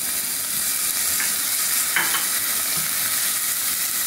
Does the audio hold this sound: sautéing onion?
yes